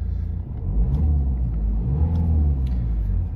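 A BMW 320d M Sport diesel engine revving freely from idle, a close low rumble that swells twice in quick succession before settling, with no talk over it.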